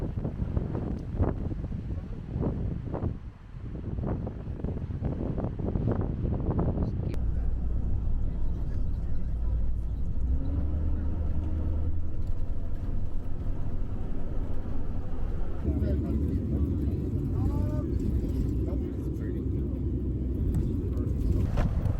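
Tour bus riding through Denali National Park, heard from inside as a steady low engine and road rumble with wind noise, brief talk near the start, and a louder rattling drone in the later part.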